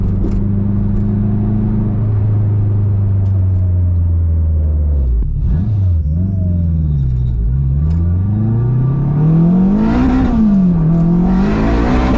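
A turbocharged K24-powered all-wheel-drive Acura RSX Type S drives hard, its engine droning loud and close, dipping as it shifts and then climbing again in revs, with no talk over it.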